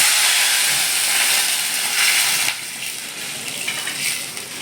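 Mustard seeds tempering in hot oil for papad curry produce a loud, dense hiss and crackle that drops to a softer, steadier sizzle partway through.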